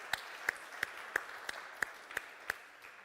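Audience applause at a talk show, heard as a sparse, even series of distinct claps about three per second, faint and somewhat distant.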